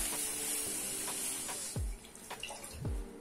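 Water splashed into a pan of hot melted sugar caramel, giving a steady broadband hiss and spray with a couple of low thuds as the pan is handled, no voices.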